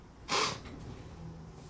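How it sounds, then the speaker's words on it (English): A person with allergies lets out one sharp, loud sneeze close up, followed by quiet breathing. "The more I sneeze, the better off I am."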